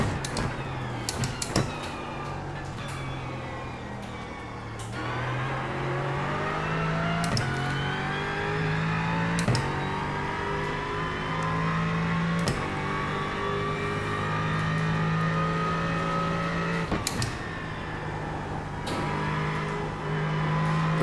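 A new Aston Martin race car in iRacing, its engine droning steadily and rising through the gears, with repeated sharp shift breaks as the revs climb and drop; no talking.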